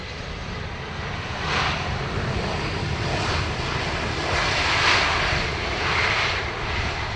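A Boeing 787 Dreamliner's jet engines at Dublin Airport, a loud sustained roar that swells and eases slightly as the aircraft moves, heard alone with no voices.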